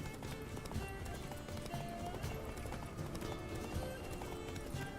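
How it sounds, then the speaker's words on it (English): A spectral horse gallops in the video game The Witcher 3, with rapid, continuous hoofbeats that drum steadily and loudly throughout, and occasional game effects mixed in. "Pretty slow for a spectral horse."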